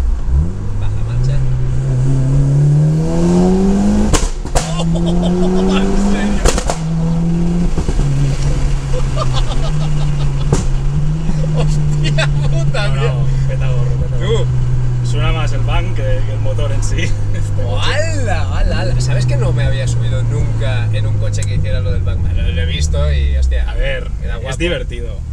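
Mitsubishi Evo IX engine revving and droning loudly with rising and falling pitch as the car changes down a gear, sharp backfire pops and bangs scattered through, with people talking inside the car over the engine.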